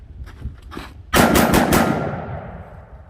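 A CMMG MK4 5.56 rifle fires a rapid, loud string of shots close by, the burst cutting off abruptly and leaving a reverberant tail fading out; faint handling sounds come before it.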